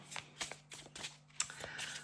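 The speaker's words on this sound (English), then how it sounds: "So I'm just going to give them a little shuffle here." A deck of cards is shuffled for a tarot-style reading, several quick riffling bursts in a steady rhythm, close and fairly quiet, with no talking.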